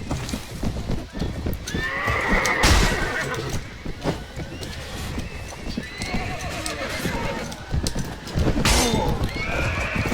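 Horses in the Mount & Blade Warband video game, with steady clip-clopping hooves throughout and loud whinnying neighs rising above them, amid battle noise.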